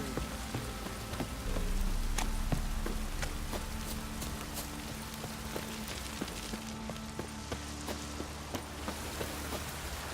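Steady rain in The Witcher 3: Wild Hunt patters across a surface with scattered sharper drops and faint clip-clopping steps, a soft continuous wash heard alone without voices.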